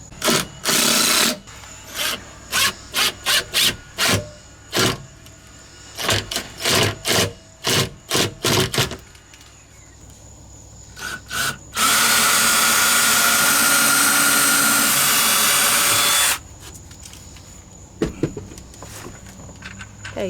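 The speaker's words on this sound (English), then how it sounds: "And he's going to drill first." A power drill bores into a wooden drawer box built for a van floor, giving one sustained whirring burst of about four seconds, preceded by a string of short, sharp clicks and knocks close by.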